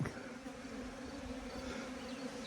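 Continuous droning buzz of many honey bees from a small split colony, close and steady, with no voices.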